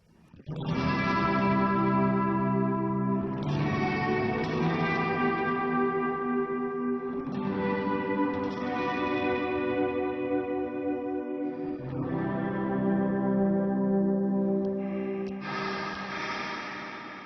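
Sustained electric guitar chords through a long-decay reverb pedal ring out one after another with long, washy reverb tails that blur into each other, giving a spacious, ambient sound.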